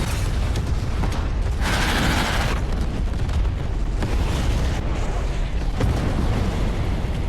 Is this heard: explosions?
yes